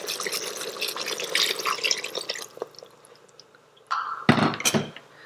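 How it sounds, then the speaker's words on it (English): Water splashes and trickles into an Instant Pot in a busy kitchen, followed by a louder burst of pouring near the end. "Now add around 1 cup of water."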